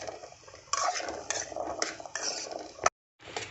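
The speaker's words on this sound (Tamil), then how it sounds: "இப்போ இந்த வெங்காயம் ஒரு பாதி வதங்கினதுக்கப்புறமா நம்ம எடுத்து வச்சுருக்க இந்த 2 தக்காளியையும் நம்ம போட்டுக்கலாம். இதையும் போட்டு நல்லா வதக்கிக்கலாம்." Onion and tomatoes being sautéed for onion chutney, a spoon scraping and clinking against the pan in repeated strokes, with a faint soft sizzle underneath and a brief silent gap near the end.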